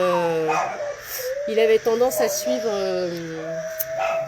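A village dog gives a few short barks and drawn-out whimpering whines, close and fairly loud, with people talking over and between its sounds.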